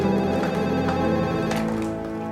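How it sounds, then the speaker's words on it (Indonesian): Telephone ringing in a house, a bright repeating ring heard as a steady tonal tone that fills the short moment, fairly loud and close, with no voices over it. "Ada telepon."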